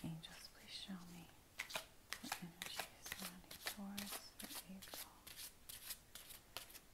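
Tarot cards shuffled by hand before a reading: quick, crisp riffling and slapping strokes in a steady rhythm, close and fairly quiet, with a soft, barely voiced murmur underneath.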